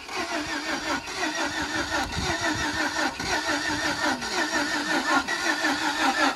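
A Jeep Grand Cherokee engine running right after a jump start, a steady mid-pitched idle with slight surges in revs continuing close and loud throughout.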